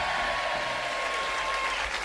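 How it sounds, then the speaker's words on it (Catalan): Applause sound effect played from a studio desk on a Catalan early-morning radio show, a steady wash of clapping that runs the whole time at an even level, with no talk over it. "sempre que et vulguis posar aplaudiments ho pots fer"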